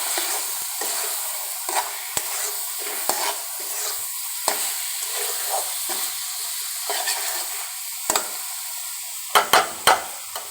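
Eggs are stirred into a frying spice masala in a pan, with a continuous soft sizzle broken by repeated sharp scraping clicks of a spoon and a few louder knocks toward the end.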